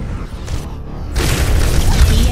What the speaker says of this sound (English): Meteor strike!